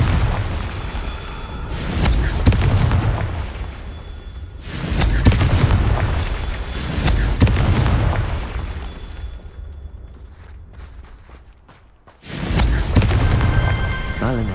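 Confringo spell explosions in the video game Hogwarts Legacy come as a series of heavy, rumbling booms, four or five big blasts with roaring tails that fade out, then a brief lull before one final loud burst.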